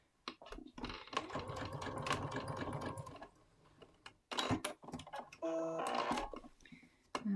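Sewing machine stitching a card trick patchwork block after the bobbin has been refilled, running in two steady bursts of rapid mechanical whirring close to the mic, with short pauses and faint handling noises between them.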